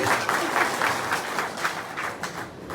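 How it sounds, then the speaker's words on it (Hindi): An audience claps together in a steady burst of applause, moderately loud and evenly sustained for a few seconds, with no voices rising above it. "एक बार जोरदार ताली बजाओ सर के लिए"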